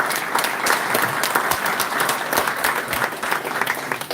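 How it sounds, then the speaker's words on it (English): A crowd at a Thornton Township meeting claps steadily for several seconds, dense and sustained applause from a room full of people with no speech over it. "Please give a round of applause to these Thornton Township employees."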